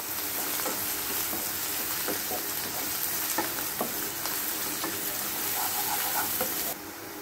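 Three split green chillies fry in hot oil for a rajma masala curry, giving a steady close sizzle with faint crackles and scattered stirring clicks throughout.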